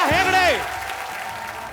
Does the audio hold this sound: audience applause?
yes